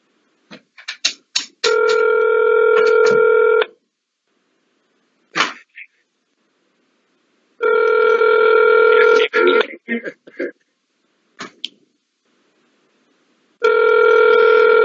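Outgoing telephone call ringing, with three long buzzy rings separated by silent gaps, and brief clicks and line noise between them, loud and clear.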